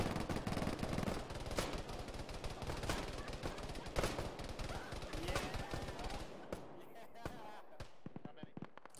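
An MG3 machine gun fires in the military shooter Arma, rattling out dense, rapid bursts of close gunfire that continue for several seconds before breaking into sparser shots and a few fading reports.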